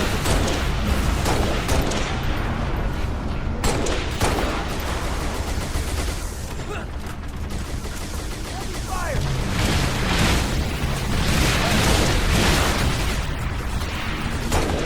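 Dense, continuous gunfire and explosions from a DMR battle against fuel-rod-gun grunts in Halo Reach, a loud, unbroken barrage of shots and booms throughout, with a voice talking over it.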